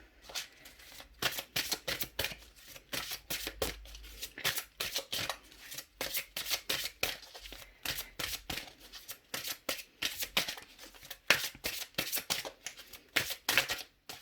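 Deck of oracle cards shuffled and cut by hand, producing rapid crisp flicks and slaps in a quick, steady rhythm over about fourteen seconds, close up and alone without talk.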